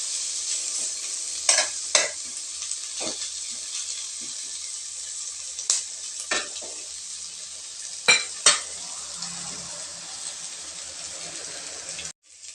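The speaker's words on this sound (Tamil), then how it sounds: "கருவேப்பிலை கொஞ்சம் சேர்த்துக்கலாங்க. வெங்காயம் கொஞ்சம் வதங்கட்டுங்க." Onions and curry leaves sauté in a pan with a steady high hiss of frying, broken by sharp stirring scrapes and spoon knocks at intervals, close and moderately loud.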